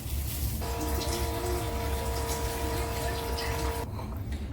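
Hot water pours steadily from a cup into a pot of rice for about three seconds, a continuous rushing stream with a faint ringing tone and no talking.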